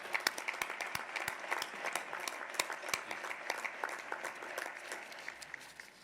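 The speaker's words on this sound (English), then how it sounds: "let's give them a round of applause as well" An audience applauds at the University of Richmond undergraduate commencement in 2021, a steady patter of clapping heard from a distance that slowly fades.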